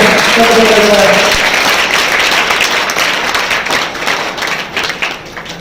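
Audience applause at an award ceremony held at Harakuda Math, a loud dense burst of clapping that gradually thins and fades, mixed with some crowd noise.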